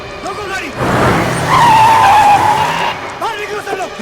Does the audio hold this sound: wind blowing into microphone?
no